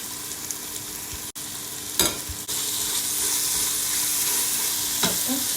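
Masala for prawn biryani, with fried onions added, sizzles steadily in oil in a pan while a spoon scrapes and stirs it in a few rough strokes.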